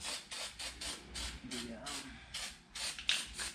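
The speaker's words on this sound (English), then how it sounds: "So I'm just spraying it on that inside ring, right in here, around the inside." Bursts of hissing spray from an aerosol can of anti-seize compound applied to the inside ring of a rotor on a 2012 Ford F550 Super Duty, repeated short sprays in quick succession, close and alone.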